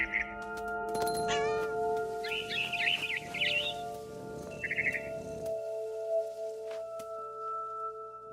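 A cat meows in the video game What Remains of Edith Finch, several short mews in a row over a steady game soundtrack, while birds twitter nearby.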